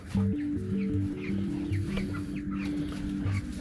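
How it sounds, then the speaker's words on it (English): Steady low clucking from a broody hen sitting on eggs, repeated soft murmuring calls close by, with no one talking. "So there's my broody hen."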